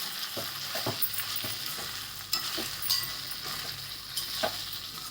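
Okra frying in oil with ground peanut powder sizzles softly while a spoon stirs it, giving a string of scraping clicks and taps over the continuous hiss, close and fairly quiet.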